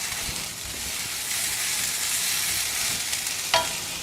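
Mint and tomato sautéing in a pan on a low flame, an even, gentle sizzle running throughout with one short scrape or clink near the end, close and unaccompanied by speech.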